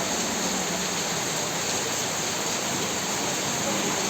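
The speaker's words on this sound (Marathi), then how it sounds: "लक्ष्मीपूजनच्या दिवशी पाऊस पडतोय." Rain pours steadily on a Lakshmi Puja day, wetting roads and tin roof sheets, a continuous dense hiss of falling water close by with no pauses.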